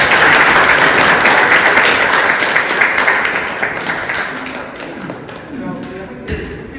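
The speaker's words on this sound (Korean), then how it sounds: "큰 박수로" Crowd applause at an outdoor political rally in Gyeongju welcoming a visiting politician and lawmakers, loud and dense, gradually easing off toward the end with scattered claps and some background voices.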